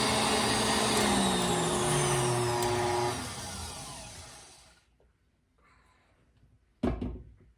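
An electric mixer whisks batter toward stiff peaks with a loud steady whirr that fades out after about three seconds, followed by quiet and a sharp clatter near the end.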